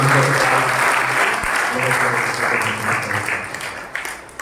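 Applause from a congregation welcoming the priest at a Holy Mass at a shrine, dense steady clapping that carries on throughout and thins slightly toward the end, with voices mixed in.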